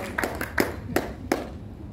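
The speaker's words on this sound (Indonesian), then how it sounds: "Luar biasa, tepuk tangan yang meriah untuk Dr. Natalina Suwesilawati" Sparse clapping from an audience at a nursing workshop on child nutrition, a few separate hand claps spaced about a third of a second apart over a low room murmur, thin rather than a full roar of applause.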